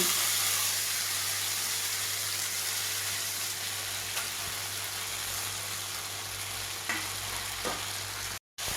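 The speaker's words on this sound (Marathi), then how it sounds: "गॅसवरती कढई ठेवली आहे आणि त्यात मी आता हा कीज घालून घेते" Grated raw mango sizzles steadily in a hot kadai, a close, even frying hiss with a few faint clinks of stirring.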